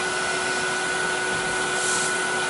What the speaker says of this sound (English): Okay, so I'm going to burnish that in now. Again, with a high speed. We're actually doing 2000 RPM now.